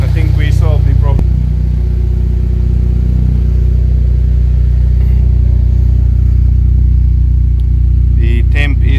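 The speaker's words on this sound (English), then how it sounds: "Car is idling normal." A turbocharged Honda Civic engine idles after a head gasket replacement, with a steady, close, low hum throughout and a voice briefly heard at the start and end.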